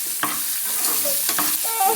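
Curry leaves and dried red chillies sizzle in hot oil for a mustard-seed tempering, a close, continuous frying hiss broken by a few stirring scrapes and pops.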